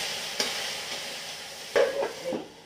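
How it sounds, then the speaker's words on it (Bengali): Vegetables frying with salt and turmeric, a soft continuous sizzle with a few sharp stirring scrapes against the pan near the end, no voices. "নুন হলুদ দিয়ে এটা একটু ভাজতে বসছি"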